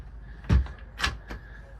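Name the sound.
cabinet locking mechanism operated in small toy hauler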